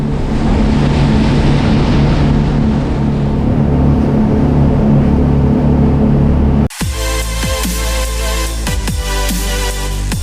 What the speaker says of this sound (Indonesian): Silakan naik speedboat Betanas Prime.